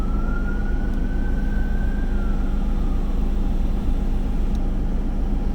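Emergency vehicle sirens wail steadily through city traffic, one tone slowly gliding up and back down over a constant rumble of road noise, with no voices.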